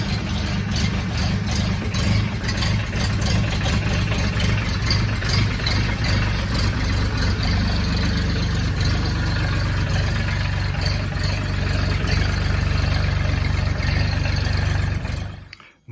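Mitsubishi-built Mahindra Max 26 XLT compact tractor, diesel engine idling steadily just after a preheated cold start in freezing weather, a loud close low rumble with light rattle running unbroken until it cuts off at the end.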